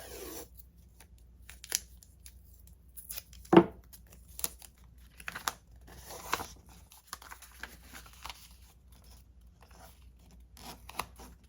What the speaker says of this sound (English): I'm just gonna grab some washi tape and tape it on to the back.